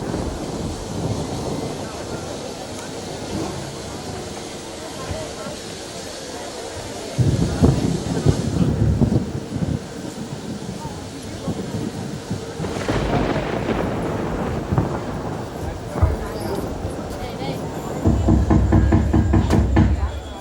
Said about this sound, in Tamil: அது காத்துல அடிக்கிற சத்தம்ப்பா